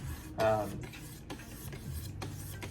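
A Smith and Wesson Border Guard knife blade is drawn across a sharpener in steady, evenly spaced rasping strokes, up close and fairly quiet.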